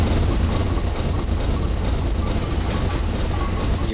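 Two BR Black LMS 7F steam locomotives steam past together, giving a steady, dense rumble with continuous rail clatter that holds at an even level throughout.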